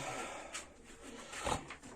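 Soft pigeon cooing in an enclosed loft, a couple of low murmuring calls over a faint background hum.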